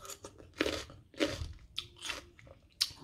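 Crunchy bites and chewing of a sour orange, loud and close, in about five distinct crunching bursts with moist mastication between them, no talking.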